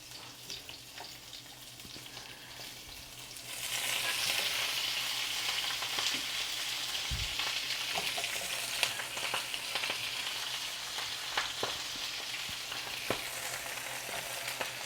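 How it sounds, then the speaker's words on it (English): Cabbage fries in a hot pan, giving a steady hiss that swells after a few seconds into a fuller, constant sizzle, with occasional pops and stirring scrapes. "Frying cabbage. It's gonna start sizzling."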